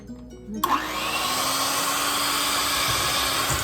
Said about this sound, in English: I'm going to hand blend it all together so that the butter becomes creamy